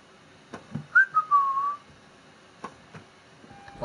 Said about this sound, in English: Why am I whistling, bro?